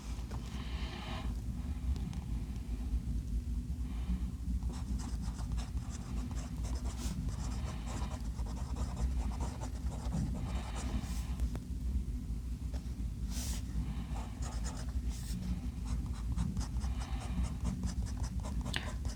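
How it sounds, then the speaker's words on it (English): A Gravitas Monster fountain pen writing wet on paper gives a steady soft scratching and gliding sound over a constant low background hum, continuous throughout with small strokes and pauses. "This pen writes very comfortably, and it writes very wet."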